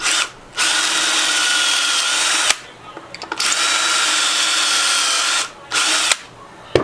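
Power drill driving pocket screws into wood while building mini soccer goals, loud close whirring bursts in several runs with brief pauses and a short stop-start in the middle.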